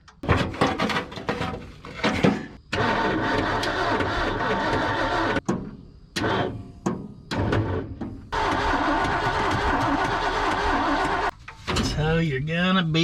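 A crew cab Ford F250 truck engine cranks repeatedly in long bursts with pauses between, then struggles and catches briefly, loud and close, with someone talking between attempts.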